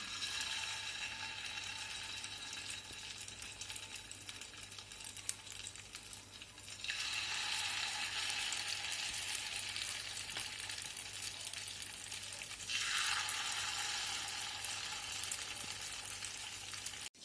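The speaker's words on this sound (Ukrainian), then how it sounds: "Смажимо при закритій сковорідці кришкою 2 хвилини" Chicken patties sizzling in a hot pan, a steady crackle that swells louder twice, over a constant low electrical hum.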